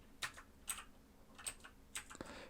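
Typing on a computer keyboard: a handful of soft, close keystroke clicks in an irregular rhythm, heard alone and faint.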